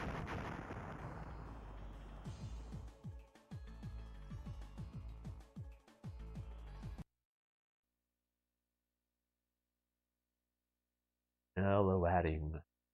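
Booming explosions and rapid gunfire from the Sega Saturn shooter G Vector, heavy blasts layered over game music for several seconds, then silence before a brief loud burst near the end.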